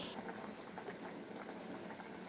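A pot of drumstick and potato sambar bubbles away on the stove, giving a steady, dense burbling hiss with no pauses.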